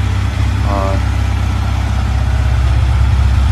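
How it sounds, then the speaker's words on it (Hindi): A Yamaha MT15 motorcycle idles after a cold start with a steady, close, low engine rumble running throughout, and a voice speaks briefly over it. "कूल स्टार्ट में डाल दिए"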